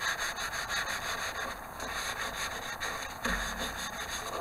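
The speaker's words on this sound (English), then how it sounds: "we get a kitchen towel, a little wipe over" A kitchen towel rubbed over a thin corrugated aluminium sheet for a Panzer IV diorama, a steady rasping scrub of back-and-forth strokes, close and continuous with no talking.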